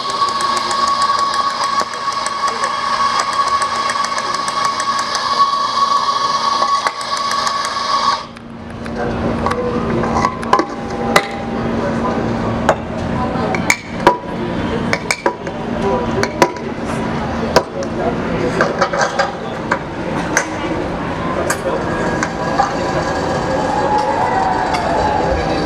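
An espresso machine hums steadily while extracting a shot, then the pump cuts off and gives way to close clatter and clinks of cups and equipment for the rest of the stretch.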